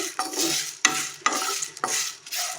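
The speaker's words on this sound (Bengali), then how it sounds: "মৌরি দিলাম আর একটু জিরে দিলাম গোটা জিরে তো এগুলো দিয়ে একসঙ্গে সবটা ভাজবো শুকনো খোলায় ভেজে ভেজে নিচ্ছি" Fennel and cumin seeds are dry-roasted in a dry pan, stirred in about five rhythmic, even scraping strokes with a soft rustling crackle, close and moderately loud, with no talking.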